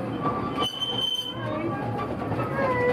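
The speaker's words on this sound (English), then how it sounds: "See the locomotive crosses the" A locomotive rolls past nearby at Woburn Safari Park with loud rumbling and high metallic wheel squeals, the noise steady and close for the whole stretch.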